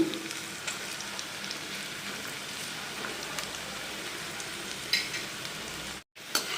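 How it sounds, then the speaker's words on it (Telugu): Ajwain leaf pakodi frying in hot oil, a continuous fine crackling sizzle like light rain, close and steady, with a couple of small clicks and a brief dropout near the end; no talking. "చూడండి ఇవి కూడా ఫ్రై అయిపోతున్నాయి"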